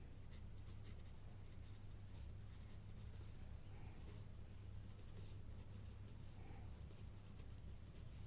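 Pen or marker writing out an equation in matrix form during a maths lesson, a continuous faint scratching with small tapping strokes over steady low hum, no talking.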